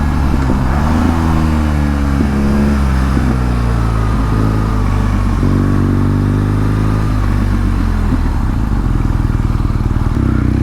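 A BMW R NineT Scrambler motorcycle, heard from the rider's seat while on the road, gives a loud, continuous exhaust drone that climbs and drops through several gear changes, with steady wind noise and no talking.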